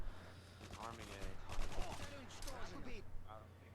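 Rapid bursts of gunfire from Modern Warfare 2, played in Demolition mode on the Highrise map, crackle steadily at moderate level beneath overlapping voices.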